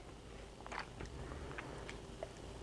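Someone biting into and chewing hot, freshly baked apple crisp, soft close crunches and mouth sounds, faint and intermittent, with no talking.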